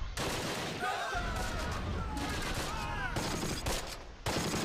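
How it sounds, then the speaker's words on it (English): Artillery barrage in the wartime strategy game Close Combat: Last Stand Arnhem, a rumbling run of overlapping blasts and gunfire layered with whistling shell sounds, dense and continuous for several seconds. "this artillery barrage seems to have worked out pretty nicely for us"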